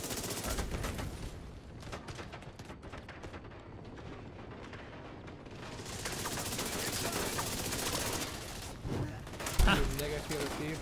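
Sustained rapid turret gunfire in The Division 2, dense and continuous with a heavy burst near the end, mixed under game sounds while players talk.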